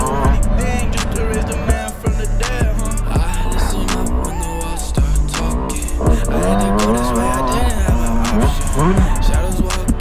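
A racing car's engine revs hard in an afternoon second heat, rising and falling through repeated sharp acceleration sweeps with crackles and tire noise, loud and continuous, while music plays over it.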